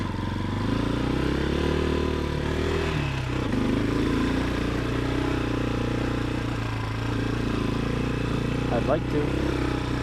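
A CSC TT250 motorcycle's single engine drones steadily at close range while being ridden, with a continuous loud low hum and a brief voice over it.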